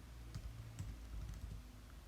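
A single key press on a computer keyboard, the Del key, heard as a faint soft click in a quiet room with low background hum and no talking.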